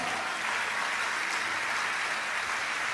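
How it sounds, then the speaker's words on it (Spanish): Church congregation applauding during a Spanish-language sermon, a dense steady wash of many hands clapping at once, moderately loud and continuous throughout with no voices over it. "Vamos, dale un aplauso fuerte a Dios."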